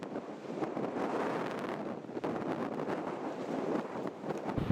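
Gusty wind buffets the microphone outdoors on a golf course, a steady rumbling roar with fluctuating gusts throughout and no talking.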